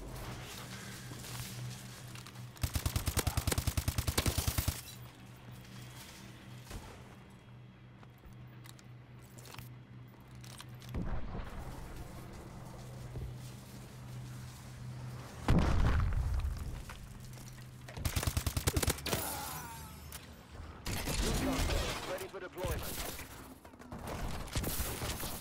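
Gunfire and explosive bursts in the video game Call of Duty, with repeated loud volleys and booms scattered through a busy, continuous battle backdrop.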